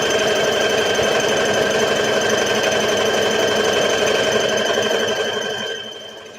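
Sewing machine running a triple stretch stitch along a seam in stretch fabric, a steady loud rapid mechanical chatter for about six seconds before slowing and fading at the end.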